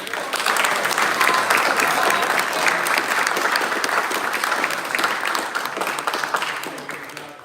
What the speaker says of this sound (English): can we give a round of applause to